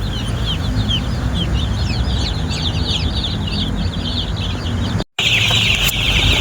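Chickens and 45-day-old chicks clucking and cheeping continuously at close range. Busy high peeps sit over a steady low din, with a brief dropout near the end.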